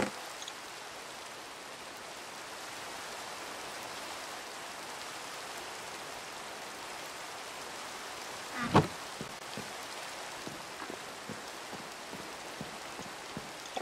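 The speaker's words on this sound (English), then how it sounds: "It's raining!" Steady rain falling in Minecraft, a soft continuous patter with brief pulsing swells toward the end, and no talking.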